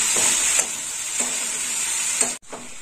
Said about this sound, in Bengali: চিচিঙ্গা দিয়ে ভালো করে কষে নেব।